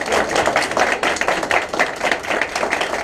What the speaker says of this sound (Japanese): まずはオールズが良かったと思う方は大きな拍手。